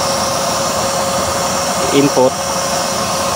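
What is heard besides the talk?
12-volt blower on waste oil stove powered by power bank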